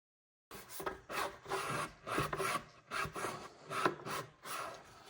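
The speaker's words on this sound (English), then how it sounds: "just give it a gentle sanding" A wooden art deco cabinet drawer is gently sanded by hand in a series of about eight rhythmic, close rasping strokes, each one a short scratchy burst.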